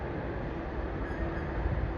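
A freight train rolls past near Delhi as a steady, low, continuous rumble of wheels and wagons, fairly quiet and even throughout with no voices over it.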